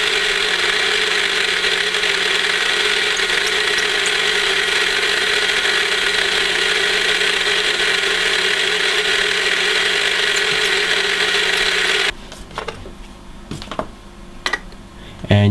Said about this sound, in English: you can see the bevel that he's just made in it with the milling machine